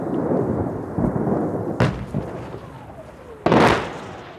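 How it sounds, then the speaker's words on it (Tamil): Shelling and gunfire explosions from fighting between two sides boom through a steady rumble, with one sharp blast near the middle and a louder, rolling explosion later, both fairly close. "ஷெல் குண்டு தாக்குதல்களும் துப்பாக்கிச் சூடுகளும் இரு தரப்பினராலும் நடத்தப்படுகின்றன."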